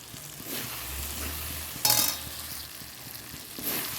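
Four green chilies sizzle in hot oil for a rohu fish curry, giving a steady frying hiss with stirring scrapes and one sharp burst of spattering as they go into the pan, with no talk.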